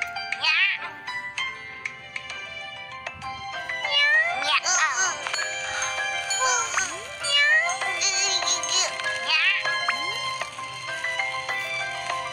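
Cartoon kittens in an Indonesian children's cartoon meow repeatedly in high, bright cries over chiming melodic tones, with a voice talking in between.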